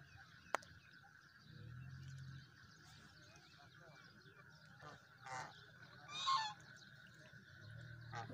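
A duck honks a few times, low and nasal, against steady outdoor background noise.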